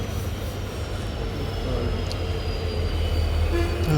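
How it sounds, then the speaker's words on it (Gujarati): Near Bhavnagar, a train rumbles past with a loud, steady low roar that builds slightly over several seconds, its rolling noise continuous and close. "ટ્રેન બહુ આવે છે અહીંયા પણ"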